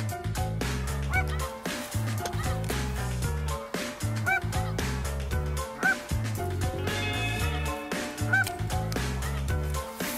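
Many geese honk steadily over a wide area, a dense overlapping chorus of calls with a few louder nearby honks standing out.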